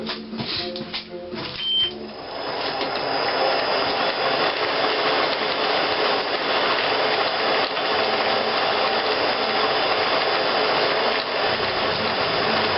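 A metal lathe runs steadily while cutting a handle blank clamped in a dividing head, taking 2 mm from each side, a loud continuous mechanical whir that follows a few seconds of clattering at the start.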